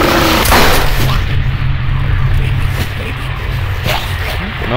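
Several loud pistol gunshots ring out in Silent Hill: Homecoming, sharp bangs spaced irregularly over constant low rumbling background noise.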